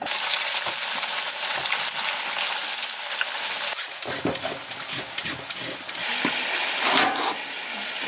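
Potatoes fry in reused grease on a boat, producing a loud, continuous hiss and crackle with scattered pops and spatters throughout.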